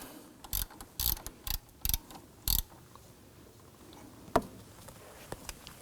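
A 12mm shallow socket on a ratchet loosens the tensioner bolt on a 2005-2009 Subaru Legacy 2.5L H4, giving several quick bursts of clicking pawl, close and crisp, separated by short pauses, with one sharp metallic tap later.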